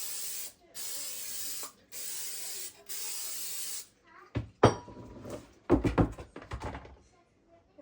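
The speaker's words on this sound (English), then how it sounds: "You want to spray it really good." Cooking spray hisses into a Bundt pan in three steady bursts, then the can and pan thunk and clatter on a counter nearby.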